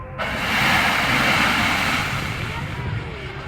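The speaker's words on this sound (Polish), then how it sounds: "Natomiast jeśli byśmy podali wodę, mamy taki efekt." Water thrown onto burning cooking oil during a fire brigade kitchen-fire demonstration sets off a sudden loud, sustained roaring whoosh of flame that swells and then holds steady for several seconds.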